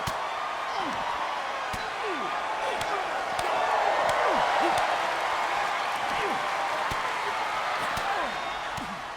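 A large arena crowd chants and roars in a steady, dense wash during a chaotic backstage brawl in WWE 2K24, with sharp slams and thuds punctuating the noise throughout.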